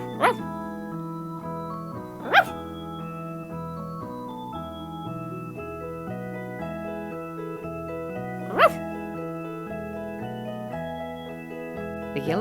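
A voice imitates a toy dog barking, giving two short, separate yips several seconds apart over gentle background music.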